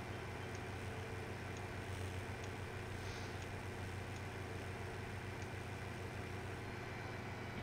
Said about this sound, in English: Bring this tractor back.